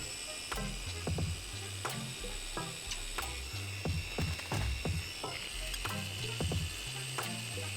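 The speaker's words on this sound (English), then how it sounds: "I am still using my electric mixer from Let's Resin." A battery-powered electric mixer stirring resin, with a steady mechanical whirr and rhythmic ratcheting clicks repeating throughout, close and continuous.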